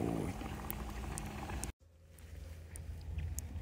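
Dunkin-style donuts frying in hot oil give a close, steady bubbling sizzle that briefly cuts out, then resumes more softly with light crackling.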